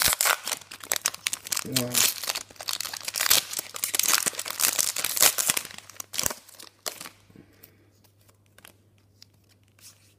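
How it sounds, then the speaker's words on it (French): A Pokémon card booster pack is torn open by hand with loud crinkling and ripping foil wrapper sounds, up close, followed by quieter rustling as the noise fades; a person speaks briefly. "J'essaie de l'ouvrir à la main celui-là."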